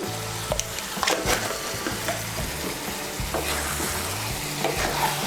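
Garam masala powder being stirred into soybean and eggplant frying in a pan, with close spoon scrapes and knocks against the pan over a continuous sizzle, and no speech.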